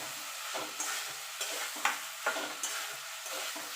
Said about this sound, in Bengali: আলুর সঙ্গে মশলাটা ভালো করে কষিয়ে নেবো